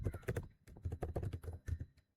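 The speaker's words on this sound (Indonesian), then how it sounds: "Kita ketikkan" Typing on a computer keyboard, a quick, close run of soft, irregular key taps for about two seconds before it stops.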